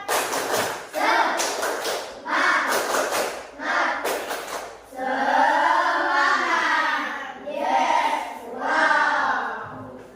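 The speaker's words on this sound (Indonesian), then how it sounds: "Tepuk semangat." A primary school class performs the rhythmic 'tepuk semangat' clapping chant, bursts of clapping alternating with voices chanting together, close and lively.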